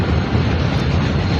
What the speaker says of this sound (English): There's a train, let me show you.